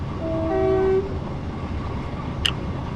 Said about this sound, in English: these are known as Desiros, as we all know, they're part of the Desiro family.